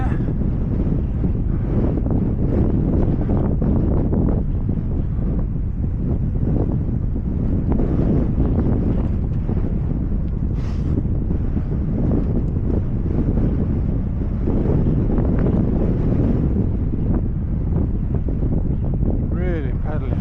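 Strong wind batters the microphone on a ride home, producing loud, continuous low buffeting and roar for the whole stretch, with faint occasional voice beneath.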